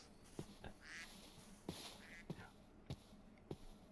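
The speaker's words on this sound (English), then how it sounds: "Oh, they're ducks." Ducks quack in a Minecraft world running the Prominence 2 modpack: several short, sharp calls spaced irregularly over a quiet, faint background murmur, with no voices.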